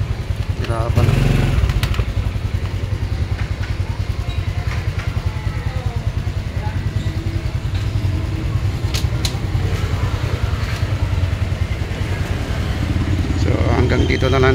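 A Honda XRM Fi 125 motorcycle engine runs steadily up close with a rapid, even putter, loud and constant throughout, with a brief rise near the start and end.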